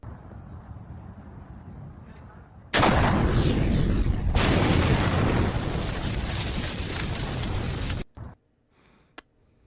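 Explosion from a chicken firing a bazooka into a KFC store: after quiet low rumble, a sudden loud broadband blast erupts and roars on for about five seconds, then cuts off abruptly into near silence with a faint click.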